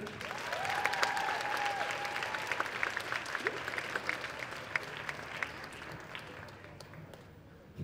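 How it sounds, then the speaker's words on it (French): Steady applause from an audience at a cosplay contest, dense clapping filling the whole stretch and tapering slightly toward the end. "Vous pouvez encore les applaudir."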